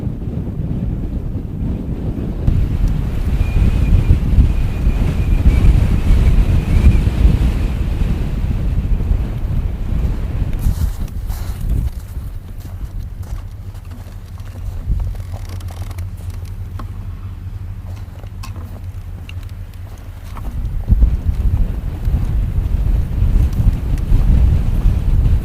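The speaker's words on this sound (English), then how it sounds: "And the wind is also crazy today." Strong wind blows hard in a snowstorm, roaring and buffeting against the microphone for about 25 seconds, loud and continuous with gusty surges and a low rumble partway through.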